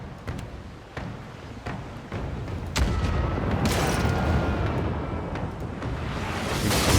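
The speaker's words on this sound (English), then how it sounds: "Fire the port cannons." Heavy booming ship cannon fire in a video game, with dense rumbling blasts and crackling, building into a continuous loud barrage.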